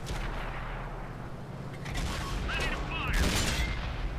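Tank cannon fire in the video game World of Tanks, a loud boom followed by rumbling battle noise and ringing effects, with the combat din continuing throughout.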